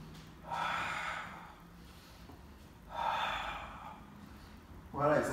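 Deep breaths during the Pilates hundred exercise on a mat, three long airy inhales and exhales spaced a couple of seconds apart, moderately close with a faint low hum underneath.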